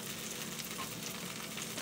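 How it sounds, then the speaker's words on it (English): Butter melts and sizzles in a skillet for a quick breakfast, a dense, even, close frying hiss that stays constant throughout with no speech. "Now that my butter is melting, I'm going to turn my skillet all the way down."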